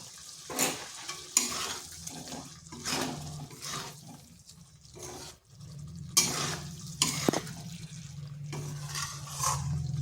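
Small potatoes being stirred with spices in a pan for aloo dum: repeated scraping strokes over a soft frying sizzle, close and fairly steady with brief pauses, and no voices.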